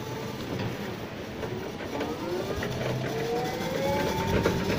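A Rich-truck electric pallet truck with a badly worn battery drives off and accelerates; a rising motor whine climbs in pitch over a steady rattling rumble, growing slightly louder throughout.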